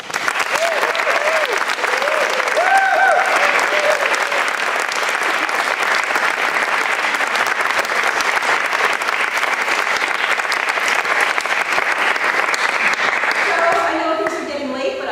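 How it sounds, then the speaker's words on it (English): A school audience at a Global Studies evening applauds the graduating seniors, loud sustained clapping at an even level, with a few voices and cheers early on, tapering off at the end as talk resumes. "So let's give them a round of applause."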